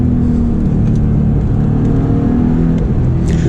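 A Porsche engine with sport exhaust hums loudly and steadily from inside the cabin, with a low exhaust rumble and slight shifts in pitch as it revs.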